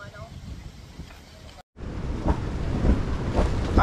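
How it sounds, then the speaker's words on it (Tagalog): Strong wind gusting and buffeting near water, a rough roaring wash that builds louder after a brief cut, with a voice speaking faintly beneath it. "Nadidinig yung hampas ng hangin."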